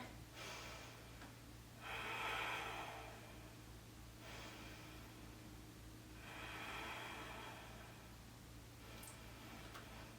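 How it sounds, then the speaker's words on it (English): Slow, deep breaths during a yoga balance pose, each a soft airy rush lasting about two seconds and repeating every four to five seconds, close and steady over a constant low hum, with no talking. "let's get ready for 6 breaths"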